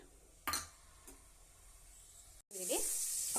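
Onions drop into hot oil in a pan: a couple of faint clinks, then a sudden bright, loud sizzle that carries on steadily to the end.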